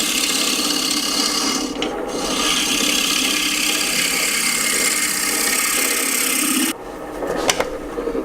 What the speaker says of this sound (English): I'll come back and make some really light passes to clean up